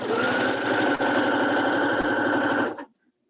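Sewing machine stitching a quilted Christmas throw pillow, loud steady close whirr with fast needle pulses, one or two brief clicks, then stopping abruptly near the end into silence.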